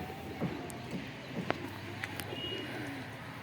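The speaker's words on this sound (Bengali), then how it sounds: "এই সমস্ত পায়রাগুলো আছে।" Domestic pigeons, mostly Giribaz breed, coo softly and repeatedly at close range amid faint rustling and background noise.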